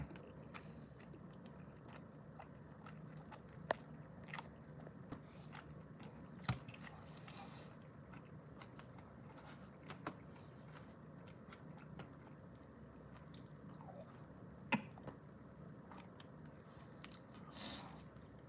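Close, quiet chewing and occasional wet bites while eating Ellis Island BBQ ribs in a Caesars Octavius hotel room in Las Vegas, soft irregular mouth sounds over a steady low room hum.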